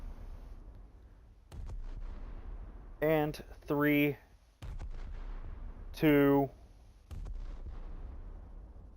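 Naval cannons fire at a Fletcher destroyer in the War Thunder game, with a few heavy booms and rumbling tails between stretches of someone talking.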